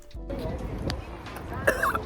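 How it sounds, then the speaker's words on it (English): A woman gives a short cough outdoors while sightseeing in Stockholm in summer, a brief throaty burst that stands out amid ambient street noise and some speech. "I just had to cough."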